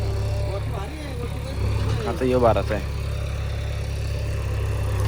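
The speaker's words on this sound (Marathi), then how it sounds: "आता मी ट्रॅक्टर चालतो." A tractor engine runs steadily at close range on a farm, a continuous low rumble that holds for the whole stretch while someone talks over it.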